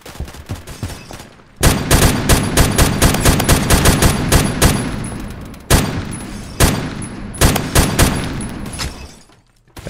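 Rapid bursts of automatic gunfire from a gun in the AdventureQuest Worlds game, loud and close, with dense runs of shots broken by short pauses and a few lone reports before fading out.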